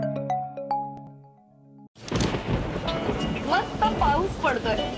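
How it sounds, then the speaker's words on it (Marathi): Heavy rain falling during a thunderstorm, a dense steady roar that sweeps in after a short musical jingle and continues loud to the end, with faint chirping tones over it. "मस्त पाऊस पडतोय"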